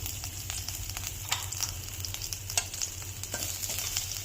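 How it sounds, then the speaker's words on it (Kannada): Chopped onions frying in hot oil for a traditional holige sambar, a steady close sizzle with scattered sharper crackles and stirring clicks throughout, no voices. "ಹಚ್ಚಿಟ್ಕೊಂಡಿರೋ ಈರುಳ್ಳಿ ಹಾಕೊಳ್ಳೋಣ."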